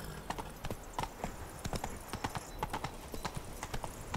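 Roach the horse galloping in The Witcher 3: Blood and Wine, a rapid, uneven run of hoofbeats. It is fairly quiet and sounds like a single animal moving steadily along a hard road.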